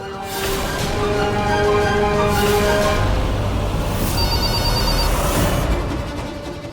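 A telephone rings loudly and repeatedly with a steady electronic bell tone, continuing for several seconds with no talking.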